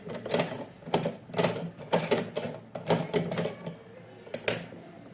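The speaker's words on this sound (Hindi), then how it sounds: "ये हमारे पास सिलाई मशीन है, ठीक है।" A sewing machine stitches the loop onto a homemade cloth face mask in short mechanical bursts of rapid needle clatter, separated by brief pauses, close and clear with no talking.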